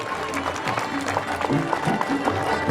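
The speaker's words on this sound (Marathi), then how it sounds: "एकदा जोरदार टाळ्या आपण सर्वांनी वाजवाव्यात" A crowd claps loudly and steadily at a felicitation ceremony honouring Indorikar Maharaj, a dense wash of applause mixed with a voice speaking over it.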